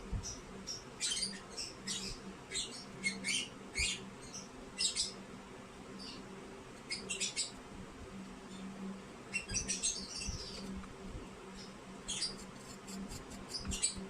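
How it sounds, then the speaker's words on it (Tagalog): Birds chirp in quick, high bursts, scattered and repeated throughout, faint but clear over a quiet background hum. "Kasi yung ibon maingay."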